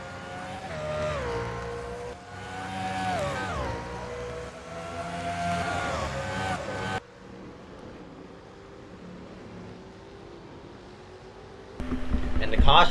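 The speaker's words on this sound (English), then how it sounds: "let y'all enjoy the sounds of the engines." Race car engines roar during a Cup Series race broadcast at Portland, with loud revving, shifting pitches and cars sweeping past. A sharp cut leads to quieter, distant engine drone, then a loud burst returns at the end.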